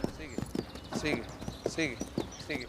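An Andalusian horse clip-clops along in a steady rhythm of hoof strikes, close and distinct, while a narrator talks over it.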